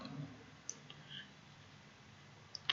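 Two or three quiet mouse clicks while drawing on a computer, sparse and isolated against a faint hum, with no talking.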